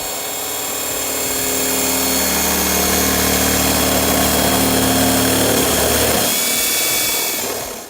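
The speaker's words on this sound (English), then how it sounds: "So I went to Harbor Freight and got this step drill bit." A step drill bit from Harbor Freight bores through a panel on a 300ZX, a steady, loud power-drill whine with a low motor drone that holds for several seconds, then eases off near the end.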